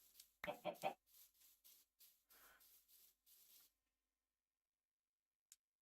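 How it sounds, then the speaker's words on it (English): A Minecraft chicken clucks in a quick cluster of soft, close calls, then short rhythmic scratchy bursts follow, fading to silence with a tiny click near the end. "That's a chicken."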